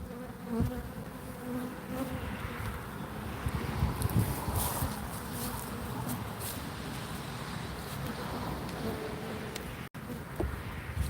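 Dense, close buzzing of many honey bees around an open hive during an inspection, a continuous droning swarm hum with brief louder passes near the microphone and light wind noise.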